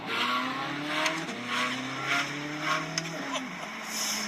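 A 2023 Chevrolet Corvette C8 Z06 engine revs at low RPM, its close, steady engine tone stepping up and down in pitch over several seconds without ringing out to high revs.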